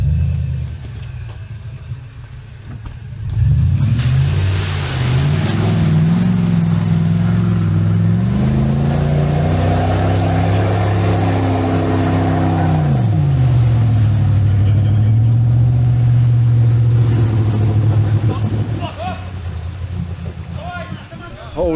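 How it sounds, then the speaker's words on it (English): An off-road vehicle engine rumbles and strains loudly as it churns through water deep enough to float the car, the revs rising and falling over a sustained low roar, in Malaysian rainforest. "Holy cow, it is so deep the car is floating."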